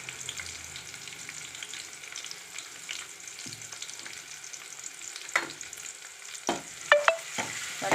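Garlic and ginger sautéing in a pan for jeera pulao and dal fry. A soft, continuous sizzle runs throughout, broken by close scraping stirs that grow sharper toward the end, with no talking.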